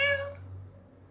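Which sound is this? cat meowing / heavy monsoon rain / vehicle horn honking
cat meowing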